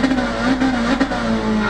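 Mitsubishi Evo four-wheel-drive engine in Gran Turismo Sport, a loud steady droning rev with a slight waver in pitch, alone and close, over a brief stretch.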